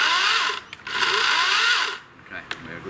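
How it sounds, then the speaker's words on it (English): An Ozito Power X Change 18V cordless chainsaw chain sharpener whines at high speed outdoors, running in bursts with brief pauses between them, loud and close. "the Ozito Power Xchange 18-volt chainsaw chain sharpener"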